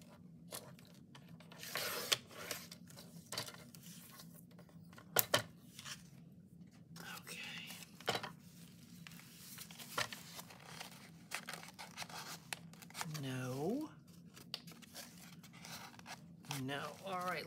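Scissors snip craft material down to size in a quiet room. The scattered short cuts and rustles come close up, mixed with low murmured talk.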